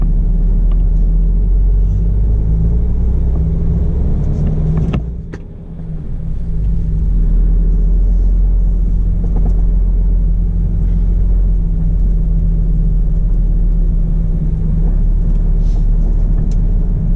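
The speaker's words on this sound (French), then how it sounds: "il y a des bagnoles dans tous les sens quoi" Steady, loud rumble of cars moving in busy traffic around a parked delivery truck, with continuous engine drone and a brief dip before vehicles keep passing close by.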